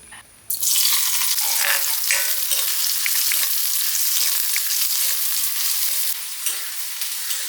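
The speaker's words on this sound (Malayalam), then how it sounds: "വെളിച്ചെണ്ണ ഒഴിച്ച് കഴിഞ്ഞ് നമുക്ക് വറവിടണം ചെറിയ ഉള്ളി" Small onions sizzle in coconut oil in a small pan, a loud, steady frying hiss that starts abruptly and continues without talk, easing slightly near the end.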